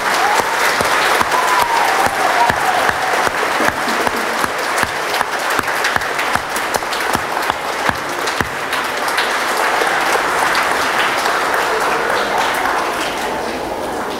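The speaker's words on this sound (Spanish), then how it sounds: "Vamos a brindarla dándole un fuerte aplauso." A church congregation at a Saturday children's Mass applauds a girl turning three, a steady wash of many hands clapping that carries on, loud and dense, for the whole stretch.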